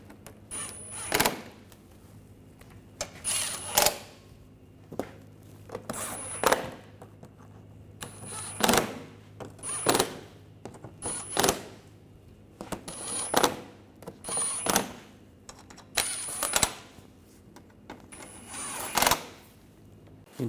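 Ratcheting clicks and tool bursts as bolts are tightened on the water pump of a 2009-2013 BMW 328i xDrive 3.0L inline-six, coming in short repeated bursts separated by quiet gaps, close by.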